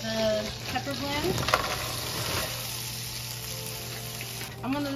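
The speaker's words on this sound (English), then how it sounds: "Now that we've got the butter like this, I'm gonna add in the pepper blend." Pepper blend sautéing in a pan of melted butter and oil, a steady close sizzle with stirring scrapes, low hum beneath, while a person speaks over it.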